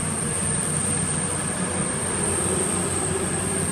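A Class 222 diesel passenger train at Leicester station, a steady loud engine drone and rumble running throughout without pause, with a high whine on top.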